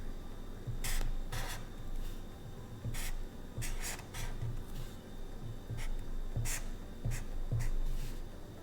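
A pen scratches across paper in short bursts of strokes with brief pauses between them, close and fairly quiet, with no talking.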